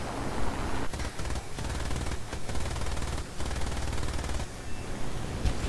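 In War Thunder, anti-aircraft guns fire on a Bf109 fighter in a rapid, continuous stream of loud rattling bursts, broken by a few brief gaps, with engine drone underneath.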